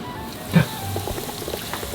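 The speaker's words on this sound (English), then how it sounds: "Oh yeah, it's sizzling." Food crackles and sizzles in hot oil, with a soft splash near the start followed by steady popping and hissing.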